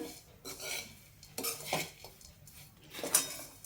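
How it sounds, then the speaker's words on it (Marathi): Roasted coconut is scraped out of a kadhai onto a plate with a metal spoon, producing a string of soft close scrapes and light clinks at an uneven rhythm. "खोबरे एका ताटामध्ये काढून घेऊया"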